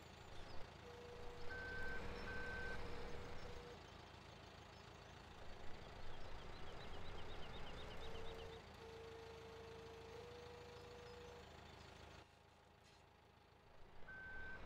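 A truck pulling a trailer reverses in Landwirtschafts-Simulator 17, its steady backup beeps sounding in spaced runs above a low idling diesel rumble, quiet and without talk.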